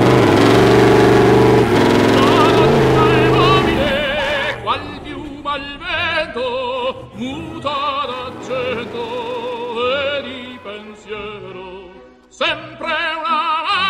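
An off-road vehicle on Maxxis Razor 37-inch mud-terrain tires revs loudly for a few seconds before music takes over and covers it.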